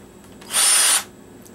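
A Black & Decker Firestorm cordless drill fitted with an upgraded battery spins up for about half a second, a close, loud high-pitched whine that starts and stops abruptly.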